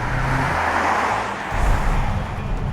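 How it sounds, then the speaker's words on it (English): A 2016 BMW X5 xDrive40e plug-in hybrid accelerates under throttle from inside the cabin, a steady road and wind roar swelling into a deeper, louder engine surge midway and holding on, with no talking. "If I hit the throttle though,"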